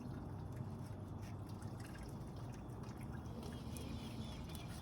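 Water runs steadily into an RV camper's septic tank to flush it, a constant low rushing and trickling wash with faint dripping, fairly quiet and unbroken throughout, with no talk.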